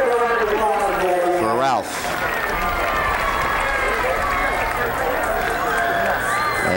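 Crowd at a high school football game between Madison and Avondale, with cheering and clapping rising from the stands as a player leaves the field, while an announcer talks over the noise.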